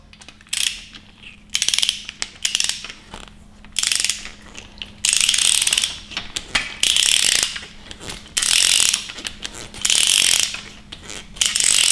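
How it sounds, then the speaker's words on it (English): Torque wrench set to 15 foot-pounds tightening top bolts on a 5.7L Hemi engine being assembled, giving repeated bursts of close, loud ratchet clicking separated by short pauses, with no talk. "go ahead, set your torque wrench to 15 foot-pounds"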